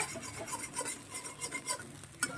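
Chow mein being stirred and slowly fried in a pan, with steady scraping and clinking of a utensil against the metal and a soft sizzle underneath, continuous and close.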